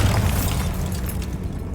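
Bombarda blasting spell in Hogwarts Legacy, a deep booming explosion that swells at once and rumbles down over a couple of seconds, with no talk.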